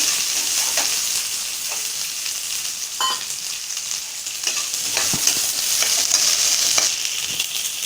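Onions sautéing in a pan for a dried anchovy (nethili karuvadu) gravy, a steady broad sizzle with a few scattered spoon scrapes and clinks, close and continuous with no talking.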